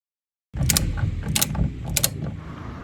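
A ratchet spins off bolts holding the power window motor inside a Kia Cerato door, rapid close clicking with three sharper bursts of pawl clatter after a silent start.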